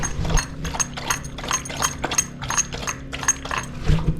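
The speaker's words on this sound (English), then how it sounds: "because that dog is so loud when it drinks." A dog laps water loudly from a bowl indoors during building insulation work, a quick, steady run of wet slurping laps, close and fairly loud, continuing for several seconds.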